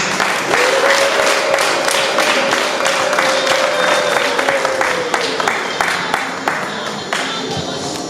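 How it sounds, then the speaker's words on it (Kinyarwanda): Wedding guests at a civil marriage ceremony clap loudly and continuously, a dense crowd of hands close by, with a sustained voice or tone running under the applause for several seconds. "mukomere Imana amashyi menshi"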